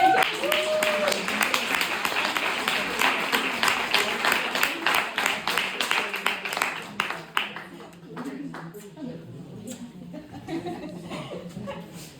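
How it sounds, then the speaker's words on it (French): Audience applause at a business presentation, a run of distinct claps that thins into scattered, fading clapping with some chuckling and laughter mixed in. "Donc je vous demande d'applaudir Mélanie."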